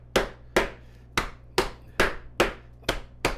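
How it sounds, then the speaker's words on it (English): A saute pan's heel pounds chicken breast flat on a board: eight sharp, evenly spaced thuds about half a second apart, close and loud, with nothing else heard. "you can use the heel of the pan to knock down the thickest part of the breast or the front"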